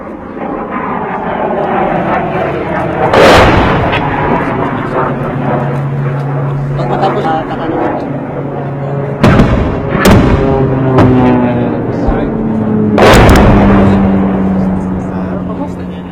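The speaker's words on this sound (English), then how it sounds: "they're just about to send this mortar into enemy territory" Mortar fire during an urban battle near a bridge, sharp loud blasts at intervals over a steady background of aircraft engine drone and vehicle noise, with voices talking underneath.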